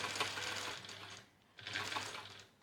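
A sewing machine runs two short bursts of tacking stitches on fabric for a compact crossbody or toiletry bag, with a brief pause between the whirring runs, close and fairly soft.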